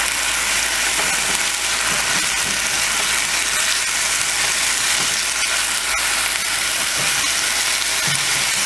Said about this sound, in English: we're going to take our garlic and we're just going to throw that in there as well